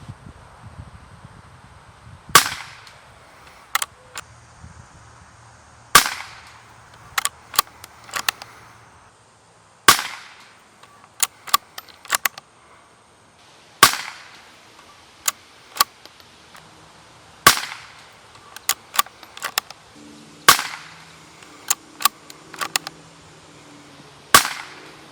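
Bergara .22 rimfire bolt-action rifles fire outdoors, sharp cracks spaced a few seconds apart, each followed by faint clicks of the bolt being cycled, with light wind noise behind and no talking.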